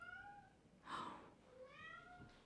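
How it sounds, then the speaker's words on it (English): A pet cat gives two clear, drawn-out meows a moment apart, quiet and close in an otherwise calm room. "There's a kitty meowing."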